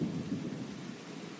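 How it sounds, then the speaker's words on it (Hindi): Heavy downpour and rumbling thunder from a cartoon soundtrack form a dense, continuous roar with low rolling booms, steady and loud throughout. "मूसलाधार बारिश चलती ही रही"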